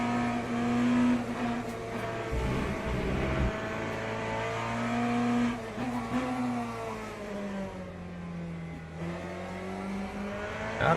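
A race car engine in the Le Mans Ultimate video game at the 6 Hours of Fuji drones loudly, its pitch rising and falling through gear changes and revs, steady and close throughout with no talk.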